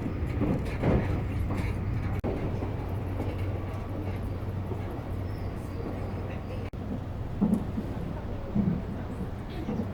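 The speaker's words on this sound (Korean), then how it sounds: "지금 라피트 특급 열차를 타고 남바 방면으로 이동하는 중인데요." Nankai Rapi:t limited express train rolling toward Namba, heard from inside the carriage as a steady low rumble and hum with faint cabin noises and a couple of brief clunks.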